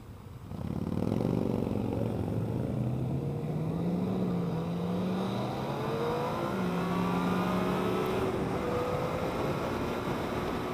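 Yamaha FZ-09 motorcycle engine in A mode revs steadily as it accelerates, its pitch climbing in smooth steps through the gears, a loud continuous drone with wind noise underneath.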